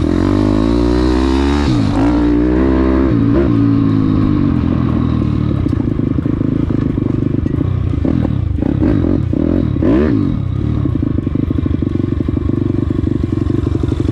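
A small 212cc engine runs loud and close on its first start and tests, revving up and down repeatedly with rattling mechanical clatter, no talking.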